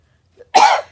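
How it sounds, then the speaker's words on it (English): A single sharp cough, close and loud, preceded by a tiny throat sound, in an otherwise quiet moment. "As I cough."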